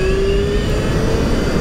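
An electric bike hub motor with field weakening accelerates through a gradual takeoff, giving a steady whirring drone with a thin rising whine that climbs in pitch as speed builds, close and continuous.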